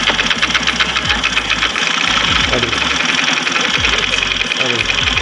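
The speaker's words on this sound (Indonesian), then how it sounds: "Ini bunyi kampas ganda" A 2017 Yamaha Vega Force FI motorcycle engine idles close by with a fast metallic rattling and knocking from the clutch plates, and a voice talks over it.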